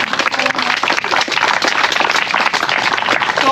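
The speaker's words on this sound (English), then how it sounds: "let's give everybody a round of applause" Crowd applause at an outdoor car show awards ceremony, a loud, dense burst of clapping sustained throughout with some voices blended in.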